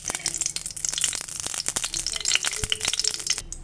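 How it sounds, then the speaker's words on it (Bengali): Four crushed cardamom pods dropped into hot ghee in a heated pan give a steady, close, bright sizzle with dense crackling pops that continue throughout. "আর এখানে এলাচি থেঁতোটা দিয়ে দেব। 4টে এলাচি ঘিয়ের মধ্যে দিলাম।"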